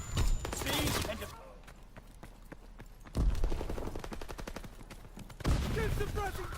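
Bursts of rapid automatic gunfire ring out in the Call of Duty WW2 video game as rattling volleys with sharp individual shots. Quieter gaps fall between them, and game voices and speech run underneath.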